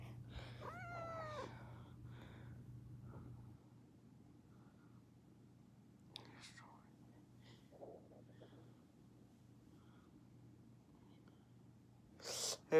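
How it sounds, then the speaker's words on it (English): A cat gives a short rising meow near the start inside a quiet home, followed by a few faint scattered sounds and a low steady hum. "There's a cat right now."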